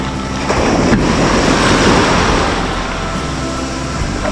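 Ocean waves wash and pull back along Lido Key beach in Florida, a steady, full roar of surf with wind buffeting the microphone throughout and no voices.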